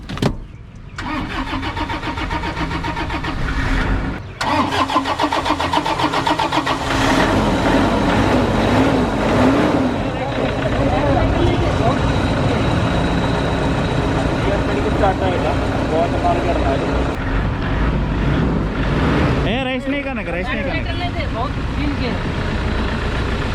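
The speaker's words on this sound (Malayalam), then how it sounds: "വണ്ടി ഒറ്റയടിക്ക് സ്റ്റാർട്ടായിട്ടാ" A Toyota Innova left standing in a garage for three years and eight months cranks and catches at once, settling into a steady, loud, close idle with people talking over it.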